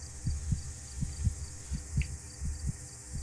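A steady, thumping heartbeat in the horror video game DreadOut pulses in paired low beats at a regular rhythm, about four double-thumps, over a faint background hum.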